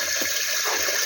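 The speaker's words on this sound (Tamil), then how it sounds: "அதுக்காக வந்து தண்ணி பிடிச்சிட்ருக்கோம்" Tap water running steadily into a container at home, a continuous hissing gush with no voices over it.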